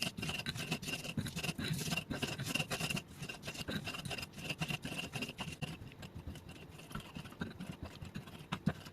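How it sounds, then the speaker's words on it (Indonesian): Shallots and garlic, with salt, sugar and bouillon powder, are ground by hand in a stone ulekan mortar, making a quiet, continuous rhythmic scraping and grinding with soft irregular taps. "Aku haluskannya manual aja pakai ulekan seperti ini."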